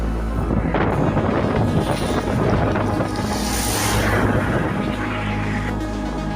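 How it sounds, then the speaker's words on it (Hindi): Strong wind roars steadily over the microphone throughout a Hero Xpulse 200 motorcycle ride from Goa toward Sankeshwar, Karnataka, a loud continuous buffeting rush with no talk. "इधर तो बहुत हवा आता है भाई, पूरा हिलता है आदमी,"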